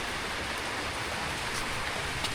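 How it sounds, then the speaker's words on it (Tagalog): Heavy rain pours down in Iloilo, a dense, steady hiss that stays loud and even throughout with no break. "Yan, grabe maulan"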